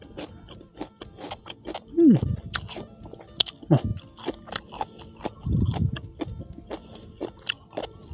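Crispy pork rinds chewed close to the mic, with crunchy bites and mouth sounds arriving in irregular bursts, under brief vocal sounds.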